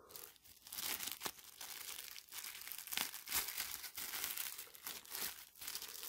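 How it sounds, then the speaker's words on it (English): Paper and tape crinkle and tear as a taped-shut paperwork packet from a Buck 500 Duke knife box is worked open, dense close crackling with repeated sharp rips, no voices. "We have a little bit of paperwork here. If I can get it open."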